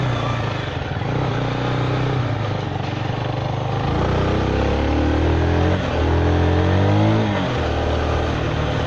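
A Zontes 310V motorcycle rides along, then accelerates with a rising engine pitch across several gear pulls, heard close and fairly loud, with no voices.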